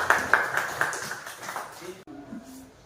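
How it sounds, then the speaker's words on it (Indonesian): A group claps hands at a church-style gathering in Ambon, a brief run of scattered claps that fades quickly, with a voice speaking over it. "Minta tepuk tangan Dovia dulu."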